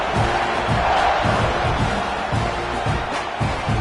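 Dense stadium crowd roaring in a college football video game as Auburn kicks off at Texas A&M, a loud, continuous cheer with rhythmic chant-like pulses and no talk over it.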